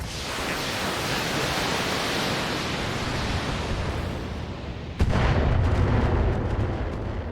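Explosions destroy enemy structures in the mech combat game BattleTech (BTA3062 mod), heard as a dense roar of blasts and rumbling fire, with a sharper, louder burst midway that keeps thundering, and no talk.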